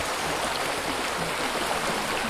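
Water flowing steadily in a natural brook, heard as a continuous, loud, broadband rush and babble with no pauses.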